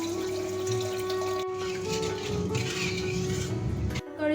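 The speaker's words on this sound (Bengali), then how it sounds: "দিয়ে দিচ্ছি পরিমাণ মতন জল।" Water is poured into a pan of spiced Bengali egg curry as a steady, close, splashing pour lasting about four seconds before it cuts off.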